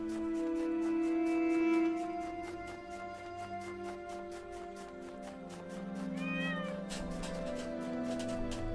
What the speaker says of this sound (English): you guys hear a cat?